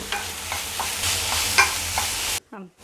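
Tomatoes sauté in a hot pan with a steady close sizzle and occasional stirring scrapes, ending in a sudden cutoff followed by a brief quiet rustle.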